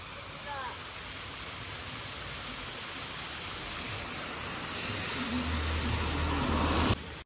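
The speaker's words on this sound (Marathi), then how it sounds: "इथून बघा कसं पाण्याचा झरा वाहतोय." Water from a mountain stream at Mahabaleshwar rushes in a continuous broadband hiss, steady and fairly loud, with a brief chirp near the start and a low hum toward the end.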